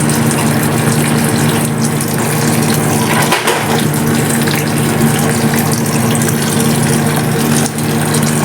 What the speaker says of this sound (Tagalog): And hot water.